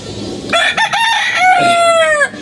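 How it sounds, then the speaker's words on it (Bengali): A rooster crows loudly and close, a long drawn-out cock-a-doodle-doo with a clear rising and falling call. "এই যে মুরগিগুলো দেখেন কত সুন্দর করে বসে দিচ্ছে মোরগ আর এই যে মুরগি"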